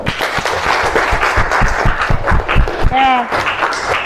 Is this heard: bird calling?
no